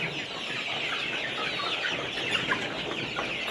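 A crowded flock of 52-day-old layer hens on a farm clucks continuously, many overlapping chatters blending into a busy, steady din.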